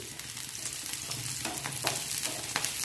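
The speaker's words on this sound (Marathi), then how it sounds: "हे पहा आपल्या मिरच्या पण अगदी चांगल्या फ्राय झालेल्या आहेत" Green chilies fry in a pan with cumin, a close, moderate sizzle with scattered crackles and a few stirring scrapes, no voice over it.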